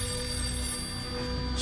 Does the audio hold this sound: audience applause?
no